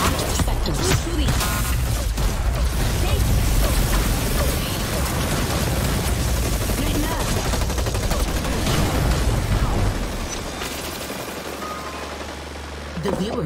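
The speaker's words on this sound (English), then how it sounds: "Who's shooting?" Dense gunfire rattles through the battle royale video game Hyper Scape in near-continuous bursts, loud and busy, with speech mixed in.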